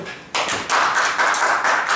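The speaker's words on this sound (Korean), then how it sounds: "가서 우리 서로 박수." Classmates applaud each other at the end of a university lecture, starting with a few claps and then swelling into loud, close, sustained clapping from the whole room.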